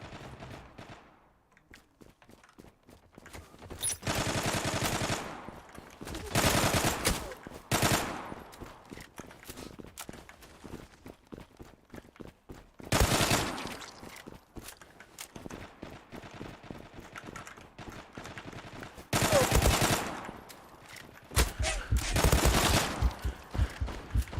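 Bursts of automatic gunfire in the online shooter game Zula, several loud sustained volleys separated by quieter gaps with scattered single shots.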